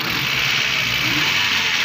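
Engine of a 2015 Suzuki Cultus running steadily with a tappet fault, a continuous close mechanical drone with a faint ticking texture and no talk over it.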